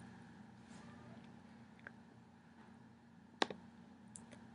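A single sharp mouse click sounds on a website button, close and crisp, with a couple of fainter ticks around it over a quiet room hum.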